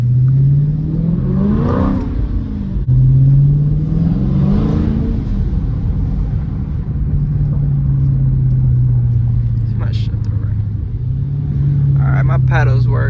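A Dodge Scat Pack's engine revs repeatedly on a short test drive, with loud rising and falling rumbling pulls, the exhaust droning in waves and occasional pops and clicks near the end.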